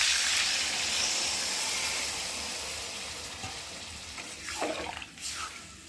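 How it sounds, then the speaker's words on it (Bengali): Water poured into a cooking pot while making a Bengali egg curry, a soft continuous hiss and splash that fades, with a couple of louder splashes near the end. "এখন আমি পরিমাণ মতো জল দিয়ে ভালো করে সেদ্ধ করে নেব।"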